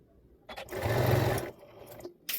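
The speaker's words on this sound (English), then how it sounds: "I am just going to stitch it flat" Sewing machine stitching a fabric seam flat on a plush cuddle kit, one short burst of fast whirring stitching, close and clear, alone in a quiet room.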